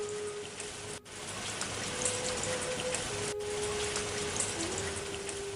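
Steady rain falls in a continuous, even patter with a faint tonal hum running underneath, fairly quiet and with no voices.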